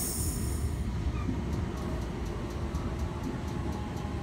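A Sydney Trains V-set passes through platform 1 at Redfern Station with a loud, steady rumble of wheels and carriages close by and no speech.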